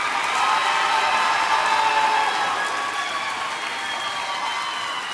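Applause for graduating high school students at a 2023 graduation ceremony, a steady wash of many hands clapping in a large hall, sustained for several seconds and easing slightly toward the end.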